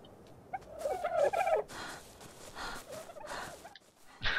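A bird creature in ARK: Survival Evolved gives a few gobbling, turkey-like calls, moderately loud and close, in short bursts with brief pauses between.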